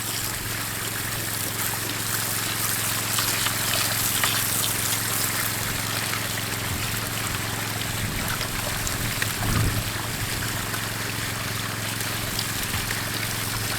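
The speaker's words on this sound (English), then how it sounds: "Just hosing it right out of the bucket" A water hose washes gold-bearing slurry out of a bucket at a sluice, a continuous broadband rush and trickle of running water that stays steady and fairly loud throughout, with no voices.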